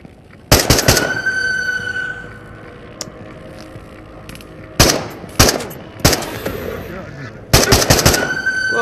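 Gunfire in the VR shooter Into The Radius, with a shotgun among the weapons: several sharp, loud bursts of shots in quick clusters, separated by quieter stretches of game ambience.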